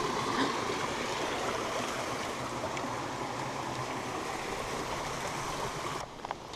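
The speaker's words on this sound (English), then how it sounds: "Little mini waterfall. Ah, best sound on the planet." A small waterfall pours steadily outdoors, a constant close rushing and splashing of water that holds even throughout with no talk.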